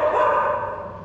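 A guest's dog inside a café at the Taipei Music Center gives one drawn-out, whiny bark that is close and steady and fades slightly toward the end.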